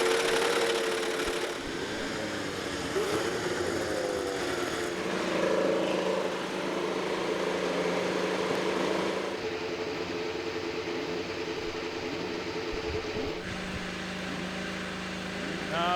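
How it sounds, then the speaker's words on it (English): IndyCar race car engines at Auto Club Speedway start and idle together at the 2015 MAVTV 500, a buzzing, layered drone with revs rising and falling and a crowd-like wash beneath. "Racers, start your engines."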